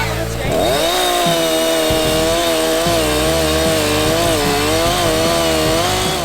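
A chainsaw drones steadily close by, its pitch wavering as the engine revs up and down, with a voice partly heard underneath.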